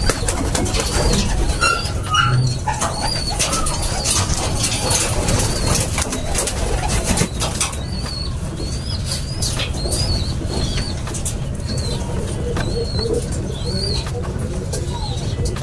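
Racing pigeons in a loft after a hard race, soft repeated cooing notes over a steady bed of rustling wing flaps and shuffling, fairly close and continuous throughout.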